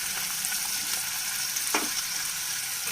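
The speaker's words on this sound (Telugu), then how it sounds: "ఆయిల్ హీట్ ఎక్కిన తర్వాత కట్ చేసి పెట్టుకున్న ఆనియన్స్ని ఇందులో వేసేసుకోవాలి" Chopped onions and green chilies fry in hot oil, giving a continuous close sizzle with a brief stirring clatter partway through, and no voices.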